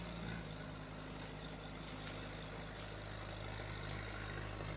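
A Sherp amphibious ATV crawling over snow banks around a house, a steady low diesel engine drone heard from a moderate distance, with no talking.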